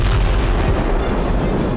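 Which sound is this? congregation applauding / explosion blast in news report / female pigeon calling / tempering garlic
explosion blast in news report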